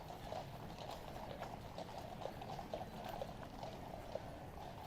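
Horse hooves clip-clopping steadily on pavement in a continuous street scene, several hoofbeats close together amid a busy background hum, with one horse in a mounted group slightly restless.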